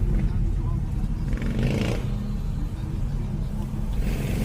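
A steady low road rumble and engine hum fill the cabin of a moving car with a cracked windshield, while a person talks over it.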